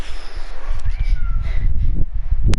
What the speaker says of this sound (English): my cat thanks you too, if you can hear him in the background